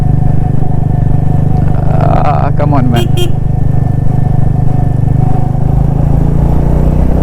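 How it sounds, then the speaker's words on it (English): A Royal Enfield Classic 350 motorcycle engine rumbles with a deep, steady exhaust drone close by, while someone briefly speaks over it and a short horn-like toot sounds. "I hope you can hear that exhaust"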